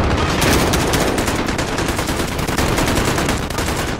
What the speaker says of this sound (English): We need to get rid of that machine gun now.